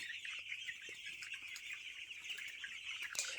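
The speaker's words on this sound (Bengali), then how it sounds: "মুরগিগুলো সব হপারের নিচে চলে আসছে" A shed of broiler chickens on a poultry farm, crowded under the feed hoppers in cold weather, clucking softly and continuously as a dense flock murmur with scattered sharper calls.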